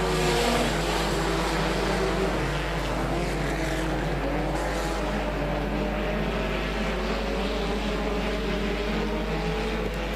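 Stock cars in a regional race bunched together on the first lap, a continuous blended engine roar heard from a distance with a steady low hum underneath.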